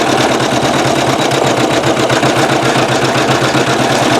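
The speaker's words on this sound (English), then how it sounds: "It's not a very heavily dense design, and you can see how beautiful and flawless this thread is sewing out." A Janome MC9900 embroidery machine stitching metallic thread with a size 90 topstitch needle, a loud, steady, rapid mechanical chatter of needle strokes running evenly throughout, with no voices.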